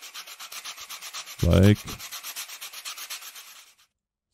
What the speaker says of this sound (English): But there is some sanding to be done